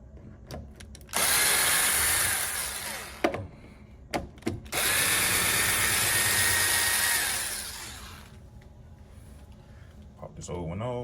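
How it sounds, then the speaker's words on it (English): Power drill installing a new doorknob plate on a door, two loud sustained whirring bursts separated by short clicks and handling knocks, with a voice speaking in between. "For this, we're going to switch to the drill."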